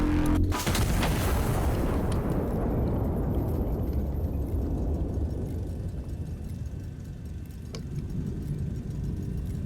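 A heavy turret cannon fires once in the Iron Nest mech game, a loud boom whose rumbling tail slowly decays across several seconds, with no talking over it.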